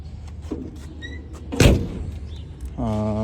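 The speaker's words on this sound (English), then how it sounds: "Door closes nicely." Door of a 1957 Chevrolet pickup truck swung shut with a single solid thud midway, amid faint handling noises, followed by a tonal hum at the end.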